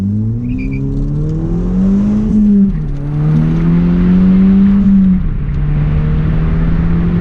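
VW MK6 GTI with a newly fitted Clutch Masters FX350 clutch driving on a road, its engine droning steadily as revs climb, drop sharply at gear changes, then rise again, heard close from inside the car.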